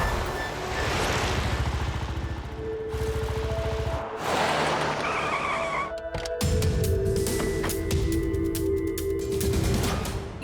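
A cartoon car in an animated Tamil children's show zooms along with engine whoosh and a brief skid-like squeal, followed by choppy bursts of sound effects and music.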